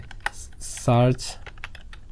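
Close-up clicking of keys on a computer keyboard as a word is entered, a short run of light taps with a faint voice in the background.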